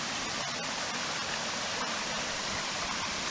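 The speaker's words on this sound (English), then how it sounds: "This is the top of the waterfall." Water rushing over the top of a waterfall in Thailand during a low-flow period, a steady broadband roar close by with no talking.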